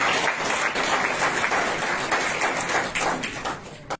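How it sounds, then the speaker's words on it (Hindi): Audience applause at a university gathering, loud vigorous clapping from a crowd that stays strong throughout before cutting off abruptly. "एक बार जोरदार तालियां।"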